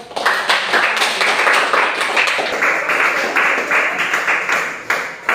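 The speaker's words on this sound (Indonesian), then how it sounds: "Berikan tepuk tangan, berikan aplaus." A classroom of students claps together, a lively burst of close, bright hand claps with a few sharper individual claps that carries steadily throughout without talk.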